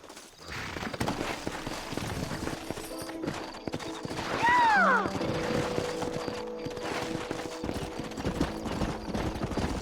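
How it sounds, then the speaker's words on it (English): Horses clip-clop in the Red Dead Redemption video game, the hoof beats sounding under game music and effects, with a brief whinny midway and a character's voice nearby. "Horses are over here!"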